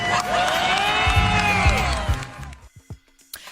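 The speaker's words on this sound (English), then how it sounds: "the crowd reacts" A comedy-show crowd reacting loudly to Martin Lawrence's comeback to a heckler, with a dense wash of cheering and shouts that dies away after about two and a half seconds, leaving scattered faint sounds.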